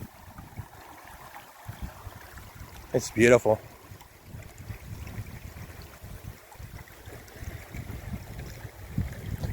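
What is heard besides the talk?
Buffalo National River flowing water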